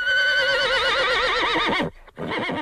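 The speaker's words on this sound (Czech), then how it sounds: "Jen dlouze naříkavě zaržál bílý kůň" A white horse lets out one long, wavering whinny close up, its pitch trembling and sliding downward for nearly two seconds, then a short pause and a fainter tail of further neighing.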